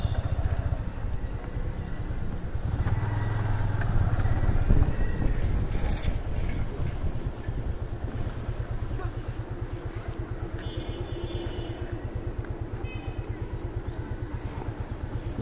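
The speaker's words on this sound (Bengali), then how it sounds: "রাজীব ভাইয়ের বন্ধু এখন বাইকে যাবো আর কি" A motorcycle ride with a friend heading straight home, the engine drone steady and close beneath strong wind buffeting the microphone, with no talk.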